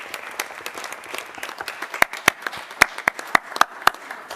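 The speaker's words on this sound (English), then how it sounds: "So that deserves another round of applause, right?" Audience applause at a joint council meeting for a robotics team, a thin spread of clapping with a handful of sharp, distinct claps standing out near the end.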